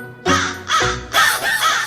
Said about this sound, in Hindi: मुझे कौवा बोल रहा है।